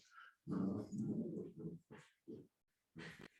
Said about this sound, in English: Please forgive my little dogs, they're just playing in the background.